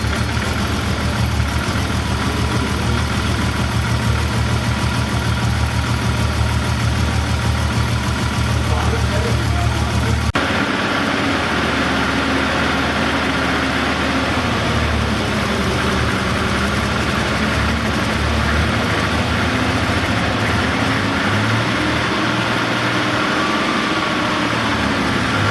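A 1982 BMW 323i E21 with a Schnitzer turbo engine, freshly started, idles with a steady low rumble. Partway through, the tone drops and settles into a smoother idle. Voices talk over it throughout.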